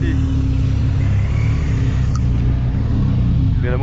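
A BMW R1250RS motorcycle engine runs in a steady, loud rumble with a slight rise in revs near the end, heard up close from the rider's position.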